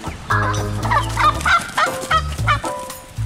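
A turkey hen in a farm pen gobbles and honks in a rapid series of loud, close calls, with short bursts repeating throughout and no talking.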